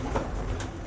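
Inside a pigeon loft, birds give low cooing calls, a brief close murmur with a couple of soft swells and no voices over it.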